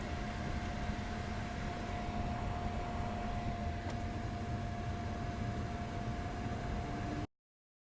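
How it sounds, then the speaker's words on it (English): A Tesla Model 3's air conditioning fan blows at high speed, an even, steady airy whoosh with a faint tonal hum, continuous until it cuts off abruptly near the end. "so I'm just going to crank up the speed"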